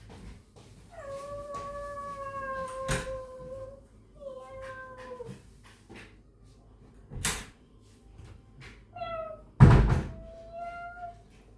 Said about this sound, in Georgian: ეს კატა.